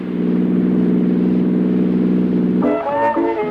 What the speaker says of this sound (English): here's the sound of knock-free power that saves you money